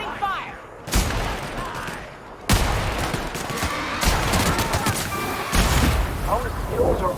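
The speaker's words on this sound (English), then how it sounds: "Opening fire!" Gunfire erupts in The Outer Worlds in heavy, loud bursts, several sharp blasts and rattling volleys piling on one another, with voices calling out over the shooting.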